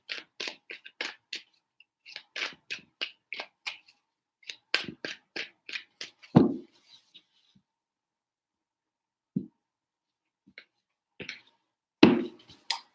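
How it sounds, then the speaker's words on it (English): Tarot cards riffle and slap in quick, crisp bursts close by, several rapid shuffles separated by brief pauses, with a few heavier taps of the deck near the end. "3 shuffles."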